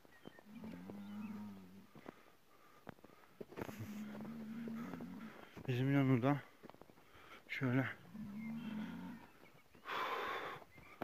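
Several loud cow moos with rising, wavering pitch ring out nearby between stretches of conversation, plus a few low mooing calls.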